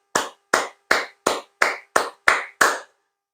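A congregation claps in eight sharp, evenly spaced beats that sound like one group striking in unison, and then the clapping stops.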